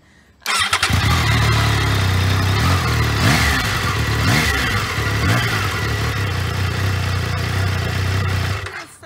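A 2024 Triumph Daytona 660 sport motorcycle engine fires up close by and settles into a loud idle, with a few sharp revs rising and falling before it cuts off.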